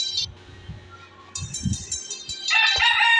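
A rooster crows loudly and close by, with a long drawn call at the end, while low clucks and farmyard noise sound underneath.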